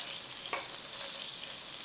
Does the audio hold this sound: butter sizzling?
yes